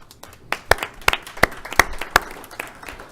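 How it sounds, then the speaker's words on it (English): A round of applause from an audience at a school governing board meeting, a burst of many hands clapping in a quick, uneven patter, fairly close and loud. "Please give them a round of applause."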